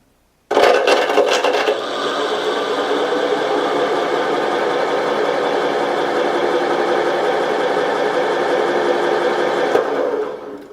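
A brushless motor on a combat robot spins up at low throttle, starting abruptly with a rattling whir that settles into a steady, loud, close whine before cutting off near the end.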